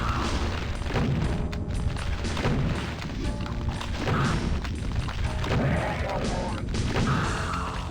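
Super shotgun blasts against Archviles in Doom II, heavy booming shots and crashes repeating densely over constant game noise and chaotic combat, loud and close throughout.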